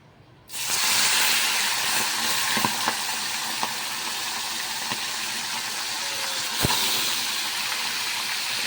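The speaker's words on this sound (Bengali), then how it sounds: "এখানে পাবদা মাছ আমি নুন হলুদ মাখিয়ে রেখে দিয়েছি এই যে এখন আমি ভেজে নেব" A sudden burst of sizzling as pabda fish rubbed with salt and turmeric hits hot oil, then steady loud frying with occasional soft clinks, no talking.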